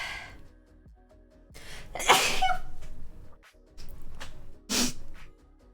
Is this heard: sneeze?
yes